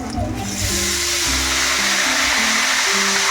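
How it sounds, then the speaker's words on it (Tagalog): Water spritzed onto chicken skin during cooking to make it crispy gives a steady, fairly loud hiss that runs through most of the moment, with a low hum underneath. "Bisikan na natin siya ng tubig."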